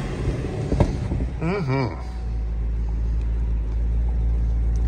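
A 2014 Chevy SS engine starting, with a brief cranking whine, then settling into a steady low idle rumble, close and loud, with a short vocal murmur near the start.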